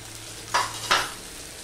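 Spiced masala with cumin and chili powder frying in tomato juices in a pan while cooking okra: low steady sizzle with two short scraping stirs close by.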